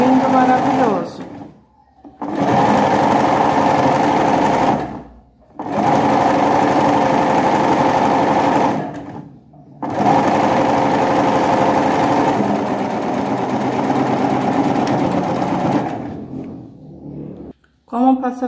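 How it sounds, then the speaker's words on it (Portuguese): A sewing machine runs in long steady bursts as it stitches fabric along a corner, pausing briefly three times between runs while the piece is turned; the motor hum is close and loud. "E continuo costurando, ó."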